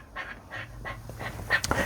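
A dog panting indoors: quick, breathy huffs in an uneven rhythm, close by, with a faint whimper near the end and no talking.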